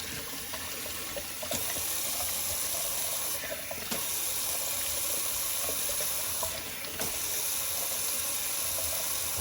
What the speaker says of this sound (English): let me just do a quick cold water rinse